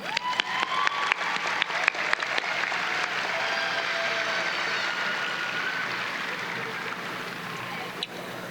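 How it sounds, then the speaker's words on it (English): Graduates at a Lincoln graduation ceremony applaud themselves, a broad, steady wash of crowd clapping that swells quickly and holds evenly, with scattered cheers rising above it. "How about a round of applause for ourselves?"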